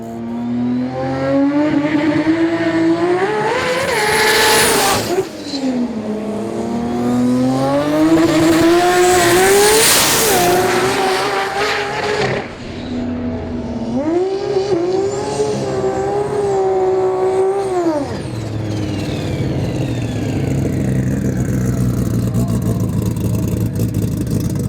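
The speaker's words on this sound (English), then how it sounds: "Nathan Hagenson's automatic 2JZ Toyota Camry sounded strong but struggled to get a clean pass in all day." An automatic Toyota Camry with a 2JZ engine runs at a sport compact drag racing meet. It revs loudly and repeatedly with rising and falling engine tones and sharp bursts, then winds down into a more distant drone.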